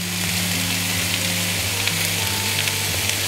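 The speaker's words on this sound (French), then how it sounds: "Alors je rajoute un tout petit peu d'huile d'olive." Aubergine and courgette frying in olive oil in a pan, a dense steady sizzle heard up close and alone, with a low hum running underneath.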